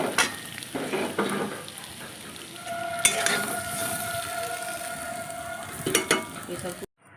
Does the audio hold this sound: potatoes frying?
yes